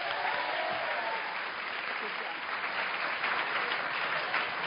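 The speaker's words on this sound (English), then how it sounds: "let's give them a round of applause." Sustained audience applause fills a mayoral debate hall, a dense, steady wash of clapping from many hands lasting the whole stretch at even loudness.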